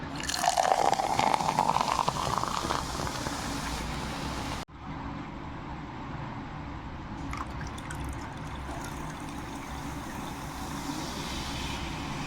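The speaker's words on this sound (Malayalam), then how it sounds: "ഇനി ഞാൻ ഇതിലേക്ക് സോഫ്റ്റ് ഡ്രിങ്ക് ഒഴിക്കാൻ സെർവ് ചെയ്യാൻ പോവേണ്ട." Soft drink streams into a glass of green grapes with a rising-pitched pour lasting a couple of seconds, followed by a steady, close fizzing crackle of bubbles.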